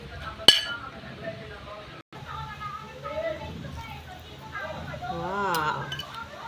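A fern salad with calamansi is tossed in a bowl, giving light clinks of utensils against the dish, with people chatting and exclaiming throughout.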